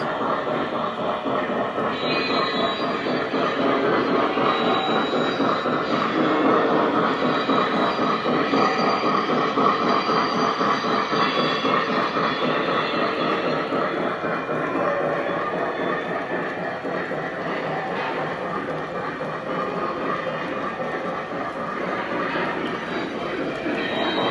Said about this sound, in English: Get my freight train running.